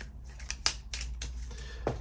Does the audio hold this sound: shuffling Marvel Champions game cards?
yes